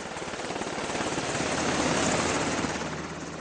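A medevac helicopter flies over Afghanistan to airlift a wounded man, its steady rotor thump and engine roar loud and continuous throughout, with no talk.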